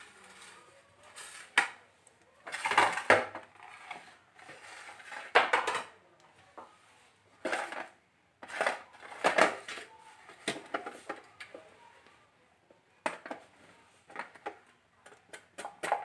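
Raw plantains being sliced for chips, a series of quiet, irregular crisp cuts and knocks coming in short bursts with pauses between, close by and without speech.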